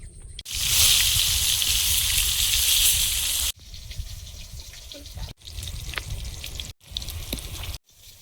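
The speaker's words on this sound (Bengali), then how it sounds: "পটলগুলো ভাজা হয়েছে হালকা বাদামি রং ধরে ভাজা হলে ভালো লাগে খেতে" Pointed gourd (potol) and brinjal fry in oil, first a loud hissing sizzle and then quieter crackling broken by short cuts, with a voice speaking now and then.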